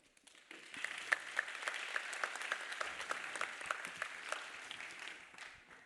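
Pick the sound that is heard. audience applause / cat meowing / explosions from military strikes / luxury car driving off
audience applause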